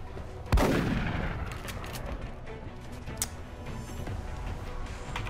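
A soldier fires a single gunshot in XCOM: Enemy Within: one sharp, loud crack followed by a decaying rumble. A fainter report follows a few seconds later over a low battlefield ambience.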